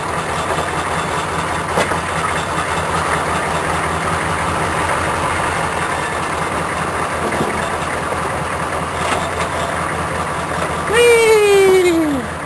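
An old two-wheel-drive Chevrolet truck engine runs at a steady, rough idle, a constant low rumble that swells near the end, with a voice speaking over it.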